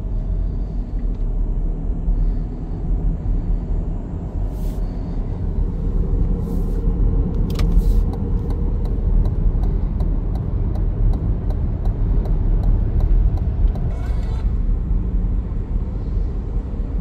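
Road traffic on a busy Monday morning, heard from inside a moving car as a continuous loud low rumble, with a few brief clicks and a faint tone partway through.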